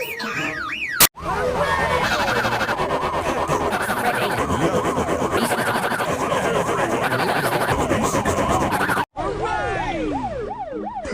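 Cartoon police car siren in Peppa Pig, loud wailing up-and-down tones sounding continuously, with short cuts near the start and end and a brief sweeping wail after.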